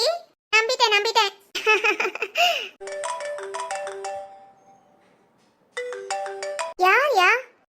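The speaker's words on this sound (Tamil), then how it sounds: "திரு ஃபோன் பண்றாமா?" A phone ringtone plays a steady melodic tone, starting between voices of people talking nearby and returning briefly after a pause.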